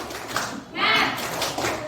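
Class of children doing a rhythmic spirit clap in a classroom, a short burst of quick group claps with a teacher's voice around it.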